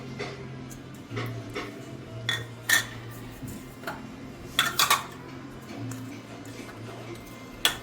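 Soft clinks of utensils against a bowl as soup ingredients for a baby's beet and tomato soup are moved in, scattered taps and a few sharper clatters over a low steady hum, no talking.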